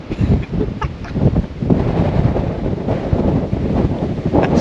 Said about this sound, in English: Mega windy up here, freezing.